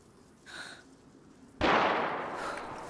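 A single sharp gunshot in the DayZ video game cracks out loud and close, leaving a broad noisy tail that fades over about a second, with a fainter burst heard just before.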